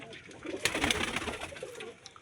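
Desi pigeons coo low and quiet at a fancier's loft, with a few sharper clicks and flutters rising over a steady murmur.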